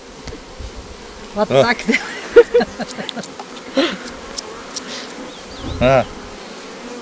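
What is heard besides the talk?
honeybees buzzing as they are shaken off a hive frame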